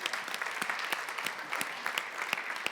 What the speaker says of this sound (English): let's give Chris another round of applause